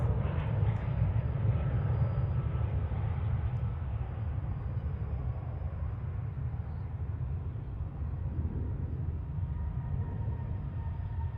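Steady low rumble of a jet airliner's engines at DFW International Airport, continuous and fairly loud throughout with no breaks or talk.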